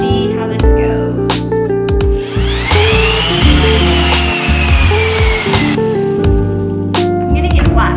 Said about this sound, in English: All right, so I'm starting off with 80 grit sandpaper.